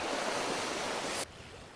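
Strong wind gusting by the sea during a sea bream fishing trip off Yokjido island, a loud broad roar with surf-like wash that cuts off abruptly near the end, leaving quieter background noise.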